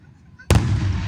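A single Labor Day firework bursts with a sudden loud boom, followed by a sustained rumbling, crackling tail. The recording is close and slightly distorted.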